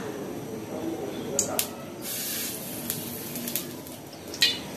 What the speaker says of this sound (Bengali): তো প্রথমে আমি কড়াইতে তেল দিয়ে দেই